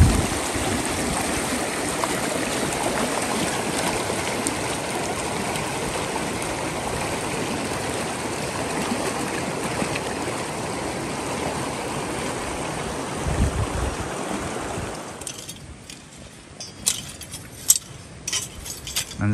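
Water flows steadily in a continuous broadband rush for about fifteen seconds, then drops away, leaving faint scattered clinks and knocks near the end.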